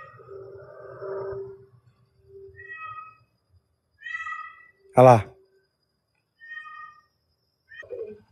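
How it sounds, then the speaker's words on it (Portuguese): A cat meows loudly several times with pauses between cries, one especially sharp and close, while a person speaks briefly near the start and end. "tá gritando muito esse gato"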